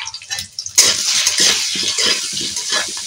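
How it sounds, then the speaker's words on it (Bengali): Potatoes with turmeric and salt sizzle in hot oil, a sudden loud hiss breaking out after a quiet start and then holding steady with soft stirring scrapes close by. "তেল দিয়ে দিয়েছি, এবারে দিয়ে দেব এই আলুগুলোকে দিয়ে দেব"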